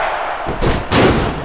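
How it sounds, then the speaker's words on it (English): A wrestler knocked down onto the floor at a wrestling show produces two heavy booming thuds, the second louder and longer, against a steady roar of crowd noise. "There goes Piccolo down to the floor"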